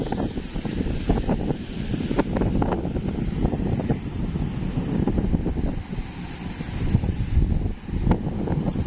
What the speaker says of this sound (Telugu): గాలి విపరీతమైన గాలి తోలుతుంది